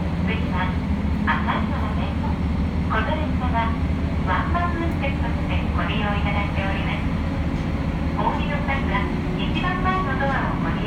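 Local train on the Hakodate Line Fujishiro branch heard from on board, with a loud, steady rumble of running gear and a rhythmic clatter of wheels over rail joints. A voice speaks over it.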